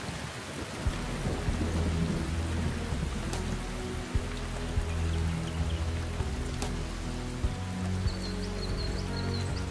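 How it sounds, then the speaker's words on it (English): Steady, heavy rain falls through the whole stretch while low thunder rumbles roll underneath, with occasional sharper cracks and a faint high chirp near the end. "When the rains come,"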